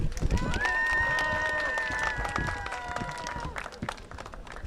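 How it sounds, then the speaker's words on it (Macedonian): Applause for girls under eight at a sports awards ceremony: steady crowd clapping throughout, with a sustained whistle-like tone over it and voices talking. "Еден голем аплауз за сите."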